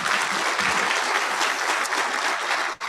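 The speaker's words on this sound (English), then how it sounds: "Another round of applause." Guests at an awards dinner give a full round of applause, a dense, steady wash of clapping from a crowded room that holds strong, then cuts off abruptly near the end.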